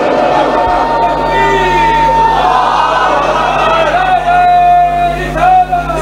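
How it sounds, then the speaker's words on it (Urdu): A crowd of young men chants religious slogans at a devotional gathering, loud and sustained, many voices merging into a roaring chorus with shouts rising above it. "میرے جوان نعرے ایسا سناؤ کہ پتہ چلے"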